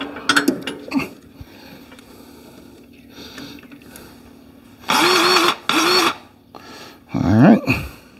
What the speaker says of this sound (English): All right, we'll put the deck down.